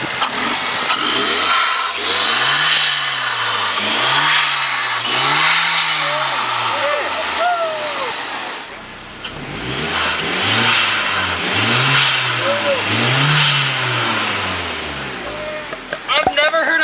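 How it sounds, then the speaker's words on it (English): A Genesis Coupe 2.0T engine fitted with a TurboXS RFL blow-off valve revs repeatedly in rising and falling swells, each ending in a loud sharp valve hiss, with people talking over it. "I've never heard a louder blow-off valve"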